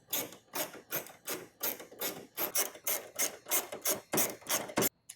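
Screws being snugged down on Trackspec Motorsports heat extractor louvers, a steady run of about a dozen short, scraping rasps in an even rhythm, close and moderately loud, with no talking.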